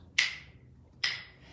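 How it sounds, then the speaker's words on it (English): Two sharp wooden clicks from clapping sticks struck together, spaced almost a second apart, close and crisp with a short ringing decay after each hit and quiet between. "let's use the clapping sticks."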